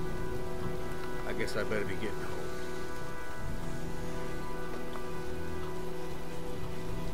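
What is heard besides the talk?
rain storm in the video game Heavy Rain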